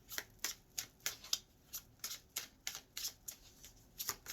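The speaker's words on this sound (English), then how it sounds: "I'm already packing my cards up" Tarot cards are handled while being packed up, giving a steady run of soft, close riffling and flicking bursts, evenly spaced and quiet, with no voice over them.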